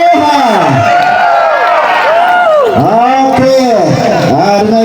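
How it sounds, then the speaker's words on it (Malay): Supporters cheer at a boat regatta in a fishing village, Kampung Nelayan Darat: a loud, sustained crowd roar with whoops and rising and falling shouts throughout. "Pasti ada bunyi sorakan kita orang dah."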